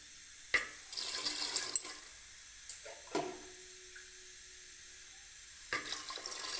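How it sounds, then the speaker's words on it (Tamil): Water splashes and trickles intermittently into a pot of mutton curry, with a few short pours and clinks, moderately close, no talking. "அப்புறம் அதுக்கு தேவையான தண்ணி ஊற்றிக்கிறோம்"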